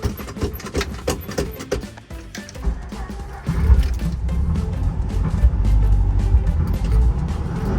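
An old Volkswagen bus engine warming up before a Texas road trip, a loud, steady low rumble that deepens and swells after a few seconds, with faint voices at the start.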